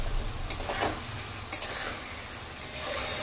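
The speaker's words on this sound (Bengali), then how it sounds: "মশলার সাথেই আলুটাকে কষতে কষতে সেদ্ধ করে নেব" Fried potatoes are stirred in a spice masala for muri ghonto. A soft close sizzle runs under a few light scrapes and knocks of a spoon against the pan, with no talk.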